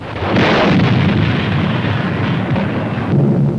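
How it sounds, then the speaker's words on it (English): Heavy aerial bombing explosions over Shanghai in September 1937, a loud, continuous rumbling barrage of blasts with a fresh surge near the end, no voices present. "This, the first mass bombing from the air of a helpless civilian population."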